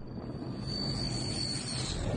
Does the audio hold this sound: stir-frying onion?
no